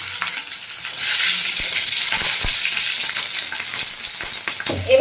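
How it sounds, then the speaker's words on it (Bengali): Nigella seeds and slit green chilies crackle in hot mustard oil, a loud continuous sizzle with sharp pops and a few stirring knocks, then a louder burst near the end. "তো এর মধ্যে আমি ফোড়ন হিসাবে কালো জিরে দিচ্ছি হাফ চামচ, আর 5-6টা কাঁচা লঙ্কাকে চিড়ে দিলাম।"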